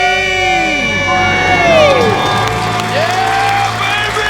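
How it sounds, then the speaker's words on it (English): On a radio call-in show, callers and studio staff let out a loud debt-free scream with cheering and whooping, voices sliding in pitch as several people shout together over a few seconds. "Let's hear a debt-free scream."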